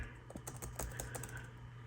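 Rapid clicking of keys on a computer keyboard attached to an old iMac, a steady, close run of taps with no voices.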